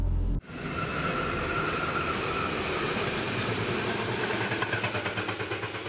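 Metro train running through a tunnel, a loud continuous roar and rumble with wheel-on-rail noise and a faint high whine, starting abruptly after a brief pause and holding steady throughout.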